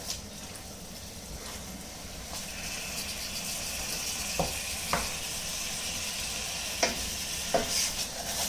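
Chorizo sizzles steadily in a hot pan for a chorizo bolognese, with a few sharp scraping clicks as it is stirred, close and moderately loud, with no talking.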